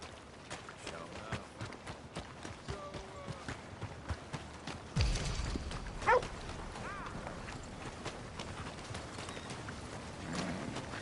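Horse hooves clip-clop in a PS4 video game, a steady run of light rhythmic footfalls with a brief louder scuffle midway, fairly faint under a player's occasional talk.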